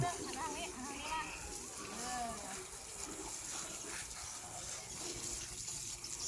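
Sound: water running as a child's face is washed after mud play

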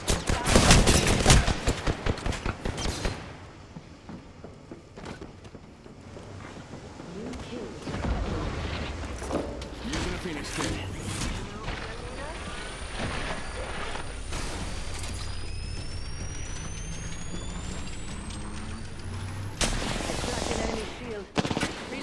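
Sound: gunfire in Apex Legends video game

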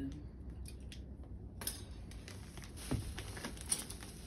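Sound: spoons, forks and knives being handled

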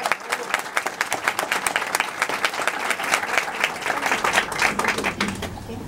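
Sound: applause for José Luis Rodríguez

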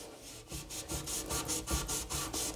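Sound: scrubbing a dirty spot with a wet melamine eraser sponge

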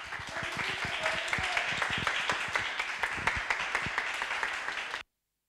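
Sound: church congregation applause welcoming the preacher

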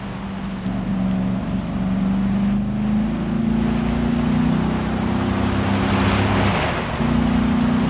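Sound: car approaching from behind in Gran Turismo Sport video game

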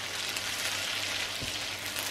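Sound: sweet potato gnocchi frying in sage butter

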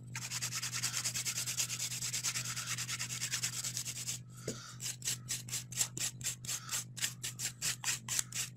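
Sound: filing a nail with a 240 grit file

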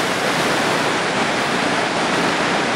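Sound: foaming tailings wastewater flowing into a river

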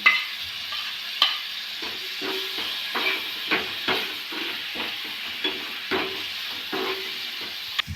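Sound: onion, carrot and tomato frying for vegetable Maggi

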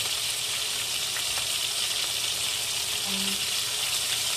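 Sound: chicken frying in a pan

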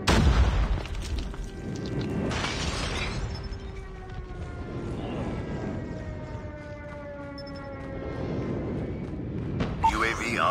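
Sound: enemy airstrike explosions in Call of Duty Mobile video game

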